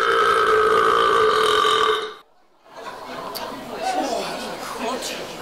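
A long, loud, throaty burp from a performer in an amateur stage comedy set on a campsite. It lasts about two seconds, then a pause, then people talking and chattering.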